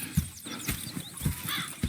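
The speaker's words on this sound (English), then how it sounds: "Go check the horses are ready." Horses in Red Dead Redemption 2, with hoof clip-clops, snorts and a brief whinny against outdoor ambience, moderately close and without talk.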